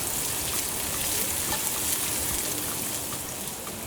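Chopped onions, hot peppers and scallions sauté in a pan for Trini curried corn, giving a dense, even, close sizzling hiss that stays steady throughout with no voices.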